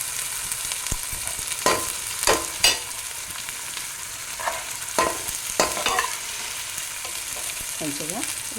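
Ingredients frying in oil for mutton paya curry, with a steady sizzle broken by several sharp scraping stirs of a spoon against the pan and short crackling bursts.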